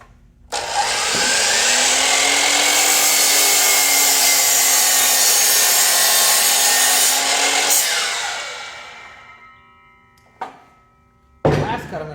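A compound sliding miter saw cuts through wood, a loud sustained whining buzz for several seconds that winds down, followed by two short clacks.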